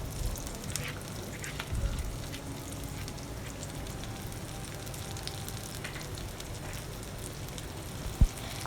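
Chilies fry in hot ghee with a steady close crackling sizzle and scattered small pops, continuous throughout with one sharper pop near the end, no talking.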